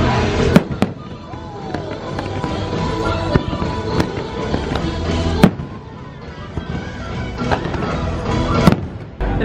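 Epcot's Harmonious fireworks show, with loud sharp bursts and crackling explosions at irregular intervals over a constant crowd and music rumble.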